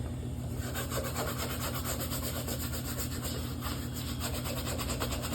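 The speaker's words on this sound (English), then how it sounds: "I'm gonna scrub them out and see how this goes." A brush scrubbing Curry 3 sneakers with soap, a steady, continuous rapid back-and-forth scrubbing rasp, close and moderately loud throughout, no talk.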